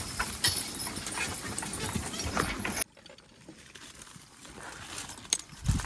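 Draft horse hooves clip-clop over stubble field ground, a series of soft irregular thuds and footfalls, moderately close, with the background dropping quieter halfway through.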